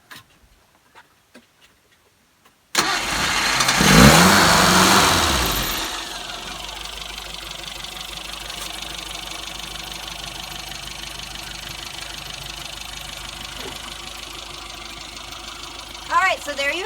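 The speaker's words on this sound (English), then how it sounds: "I'm going to go ahead and start the car so we can see if everything is sounding properly." A classic Mini's engine cranks and fires after a quiet start, revving loudly for a few seconds before settling into a steady, even idle that runs on close by.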